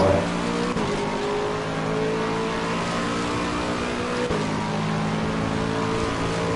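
A race car in the Gran Turismo 3 video game revs and downshifts, its engine droning loudly and continuously with shifting harmonic pitch and brief dips at each gear change.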